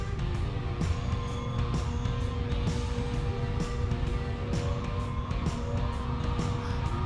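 VL-65 wheel balancer spinning a wheel up under its closed hood, a steady whirring hum with faint rhythmic ticks from the rotating rim, continuous and close.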